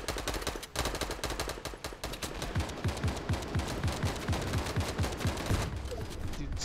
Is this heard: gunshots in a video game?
yes